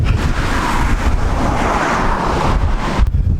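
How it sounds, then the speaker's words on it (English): Big ocean waves crash against a structure on a cold, very windy Irish coast, with a steady roar of surf and heavy wind buffeting the microphone throughout. "Those are big waves"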